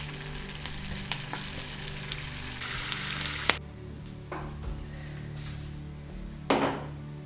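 Fish sizzles and spits in olive oil in a pan in a Provençal kitchen, a steady crackling fry that drops off halfway, followed by a couple of clunks from utensils or a cupboard, fairly close.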